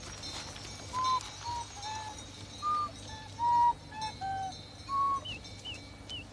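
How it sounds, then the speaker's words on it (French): Birds call outdoors in a string of faint, short whistles and chirps, about a dozen spaced notes over a steady low background hum. "Son attention avait été attirée par des cris d'oiseaux."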